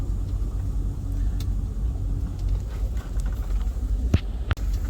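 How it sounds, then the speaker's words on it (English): A Larson boat's engine rumbles low and steady as the boat shifts into reverse and backs out from under a canopy, a close continuous drone with a couple of sharp clunks near the end. "we're going to pull up on the lever, click it in reverse, and immediately you'll feel the boat start to go"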